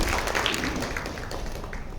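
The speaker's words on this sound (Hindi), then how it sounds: "एक बार फिर से तालियों की जोरदार गड़गड़ाहट है।" An audience at a Brahma Kumaris spiritual programme applauds after a dance performance with a brief burst of dense, steady clapping.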